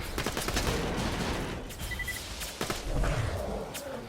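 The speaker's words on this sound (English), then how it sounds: "Let's try out this gun. It's a slag pistol." A slag pistol firing in the looter shooter Borderlands, a series of single shots spaced irregularly over a busy background of combat noise and effects.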